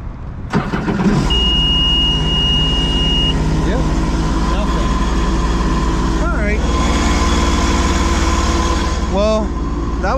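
A 2011 Sea-Doo RXT 260 personal watercraft with over 700 hours and a rebuilt engine cranks and starts, then runs at a loud, steady idle with small revs, close up, while people talk.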